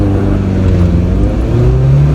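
A 2015 Mini Cooper with an inline three-cylinder engine pulls away from a green light, its engine note rising steadily under acceleration, loud and close from inside the cabin, with no talking.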